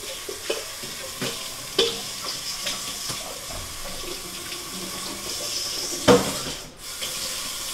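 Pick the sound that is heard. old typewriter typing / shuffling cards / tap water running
tap water running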